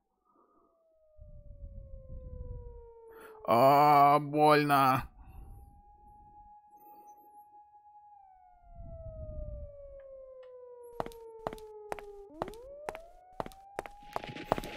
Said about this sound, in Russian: Хотя я слышу, слышите? Походу, скорая все-таки едет.